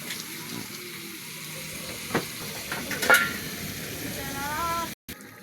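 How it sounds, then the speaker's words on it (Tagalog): Broth in a pot on the stove with a steady bubbling hiss, faint and close, plus a few clinks and stirring sounds midway. "Kumukulo na siya guys."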